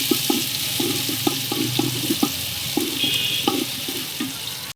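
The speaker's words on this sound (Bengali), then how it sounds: "তেলটা খুব গরম হয়ে গেছে, জাল খুব পাচ্ছে। তেল পেঁয়াজটা দিয়ে ভালো করে লাল করব।" Onions and whole cumin seeds fry in very hot oil in a pan, giving a loud, steady close-up sizzle broken by irregular pops and spoon knocks throughout.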